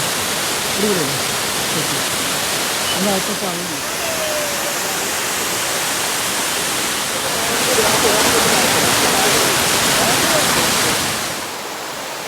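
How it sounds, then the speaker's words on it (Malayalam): A seasonal waterfall gives a steady, loud broadband rush that fills the whole scene. The roar swells slightly toward the end, and faint voices come through beneath it. "ഇത് സത്യം പറഞ്ഞാൽ ഒരു സീസണൽ വാട്ടർഫാൾസ് ആണ്"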